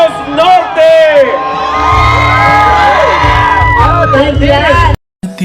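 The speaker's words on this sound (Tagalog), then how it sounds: "isang malakas na hiyaw at palakpak mula sa Batak City, Ilocos Norte" A stadium crowd in Batac City, Ilocos Norte, roars loudly with whoops, shouts and cheering voices, close and dense, before cutting off abruptly near the end.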